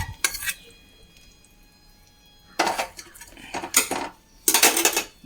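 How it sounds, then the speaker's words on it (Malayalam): Metal utensils clink and scrape in a pot in a few separate bursts with quiet gaps between them, as ghee-fried cashews and raisins are stirred into ada pradhaman payasam. "അണ്ടിപ്പരിപ്പ് മുന്തിരി നെയ്യിൽ വറുത്തത് നമ്മളിതിലേക്ക് ചേർത്ത് കൊടുക്കണം"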